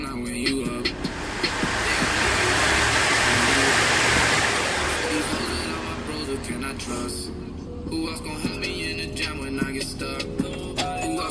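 A Chevrolet Tahoe's blower motor runs with a steady broadband whoosh that swells loud for a few seconds and then eases off, close to the microphone, with a faint underlying hum.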